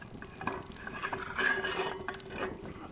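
Quiet metallic clanks and scrapes as a campfire waffle iron, heated to around 330 to 380 degrees, is opened outdoors, with a faint ringing tone and soft rustling, fairly close and low in level.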